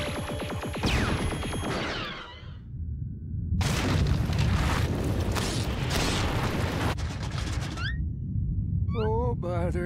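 Cartoon avalanche roars across an exploding asteroid, a loud, dense rumbling boom that swells in long bursts, with brief whooshing effects and animated voices between the surges.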